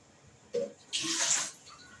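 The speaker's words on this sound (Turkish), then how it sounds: "Ilık suyu döküyorum o yüzden." Lukewarm water poured out in two short splashing bursts, a brief pour followed by a longer, fuller stream, close by in an otherwise quiet room.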